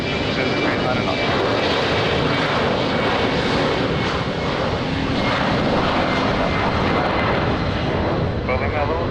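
An Embraer 195 airliner's jet engines roar steadily on its takeoff roll down runway 20 at Lisbon Airport, a loud, broad wash of sound heard from nearby.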